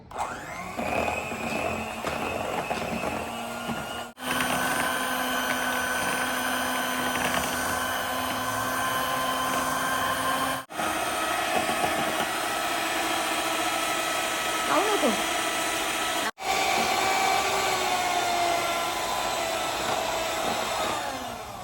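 An electric mixer whirs steadily through cake batter for a birthday cake, a loud continuous motor drone broken by a few brief stops before it restarts, with no talking.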